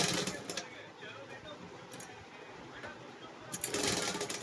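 Sewing machine stitching a folded suit sleeve runs in short rattling bursts, one at the start and a longer one at the end, with quieter handling noise between.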